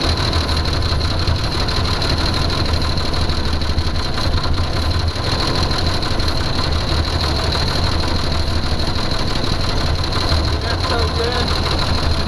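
A Jeep Cherokee engine idles with a continuous, even rumble, close and steady throughout.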